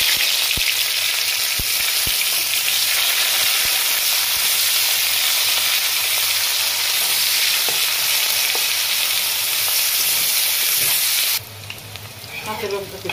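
Sliced onions fry in hot oil for a Bengali chicken keema, giving a loud continuous sizzle with a few clinks of a utensil against the pan, until the hiss drops away abruptly near the end.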